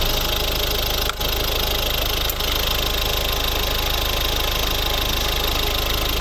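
The 1.6 diesel engine of a Mazda 5 idles close by, a constant low rumble with a faint knocking texture, broken by two brief dips.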